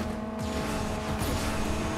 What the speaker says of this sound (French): la voiture de fou qu'il a